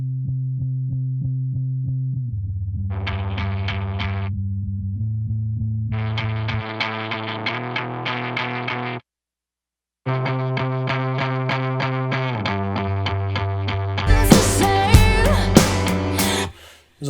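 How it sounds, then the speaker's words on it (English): A bass guitar with SansAmp distortion plays a repeating riff with a gritty, distorted overdrive tone, pausing briefly before continuing; louder, brighter notes join near the end. "There's a little SansAmp distortion on there, which I think is far too much"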